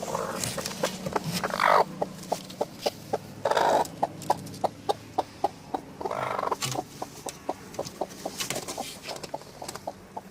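A hen clucks in a steady, repeated rhythm of short notes, close by, while being placed back on incubating eggs, with a few louder rustling bursts mixed in.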